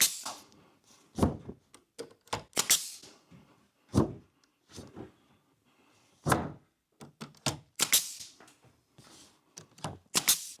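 Tongue and groove pine ceiling boards are nailed overhead. Sharp, loud thunks land at an irregular pace, about a dozen over several seconds, with quieter knocks and rustle in between.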